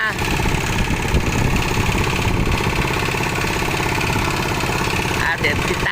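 A tractor engine runs steadily throughout on a paved rural road, a continuous mid-pitched drone with a low rumbling chug, loud and close, with voices talking over it.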